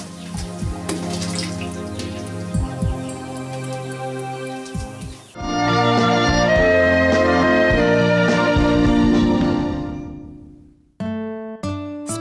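Decorative candle dipped into water, small dripping and splashing sounds near and clear, a few drips at first, then a denser stretch of watery trickling that fades out, ending in a short bright clink.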